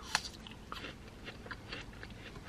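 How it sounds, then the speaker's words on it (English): Someone bites into a crisp apple and chews it. A sharp crunch is followed by several fainter crunchy chews, close and quiet, with no talking. "The apple is super crisp."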